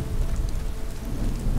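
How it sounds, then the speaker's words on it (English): Steady heavy rain with a deep rolling thunder rumble fills a Skyrim thunderstorm, a dense, continuous wash heard alone without any voices. "Oh, storm too."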